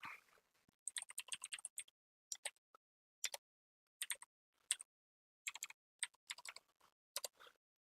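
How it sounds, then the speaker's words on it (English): Someone types a name on a computer keyboard in short, irregular bursts of crisp, close key clicks. Brief silent pauses separate the bursts. "Let me type this guy's name out"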